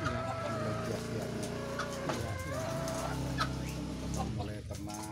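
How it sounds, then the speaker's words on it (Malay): Caged pet doves, spotted and zebra doves kept by breeders, cooing steadily and close by, with repeated burbling calls layered over a constant hum of birds and no speech. "Ini kan ada beberapa ini burung, ini ada puter, ada terkuku, ada yang lainnya."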